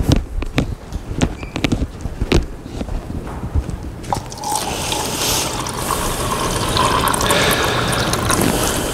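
Water poured into a glass, a rising liquid fill that follows a few scattered knocks and clinks, steady and fairly close.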